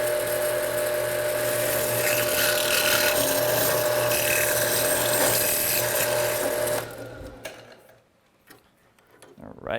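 A drill bores a hole through aluminum in a workshop, a steady loud grinding whine running for about seven seconds before cutting out, followed by quieter handling sounds.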